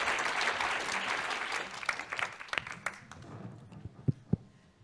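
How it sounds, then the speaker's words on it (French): An audience at a tuberculosis conference session applauds its presenters, a dense, steady clapping that thins out into a few scattered, separate claps near the end. "Another round of applause for our presenters."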